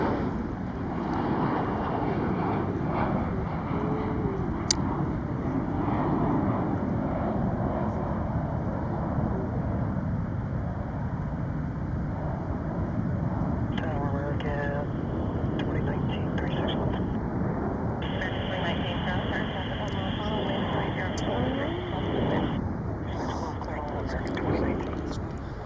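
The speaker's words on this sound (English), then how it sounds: "Next departure is actually departing now. That is American Airlines 1360" American Airlines airliner departing Charlotte airport, a steady broad jet roar sustained throughout with wind buffeting the microphone.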